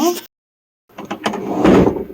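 Drawer in a Grand Hyatt Incheon hotel room being opened, a short wooden slide and knock after a brief silence, close by, with a bit of a voice at the start.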